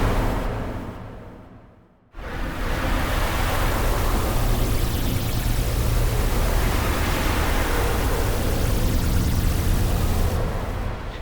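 An experimental, dissonant sound effect preset from the Hive 2 synth: a dense, loud wash of pink-noise-like hiss that dips almost to silence, then swells back and holds steady as an unbroken roar.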